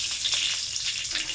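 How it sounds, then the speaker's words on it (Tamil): Mustard seeds, urad dal and dried chillies tempering in hot oil, a bright steady sizzle with small crackling pops, close and alone with no talk. "நம்ம தாளிச்சிக்கலாம். கடுகு உளுத்தம் பருப்பு, திரும்பவும் ஒரு 2 காஞ்ச மிளகாய்"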